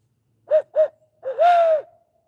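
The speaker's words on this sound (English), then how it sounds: "let's see if we can get some of these owls to talk to us" Owls hooting at night in the woods, heard close and clear with no one talking: two short hoots in quick succession, a brief pause, then a longer, louder hoot that rises and falls.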